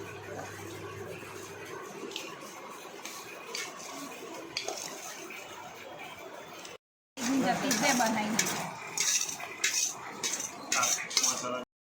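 A spoon clinks and scrapes against a pan while roasted vegetables are mixed with Maggi masala for vegetable pulao, a steady run of metallic stirring that breaks off briefly, then returns louder and busier.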